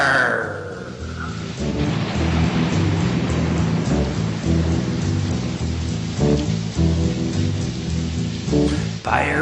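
Heavy storm with steady loud rain and rolling rumbles of thunder, continuous dense wash of noise throughout, with no voices.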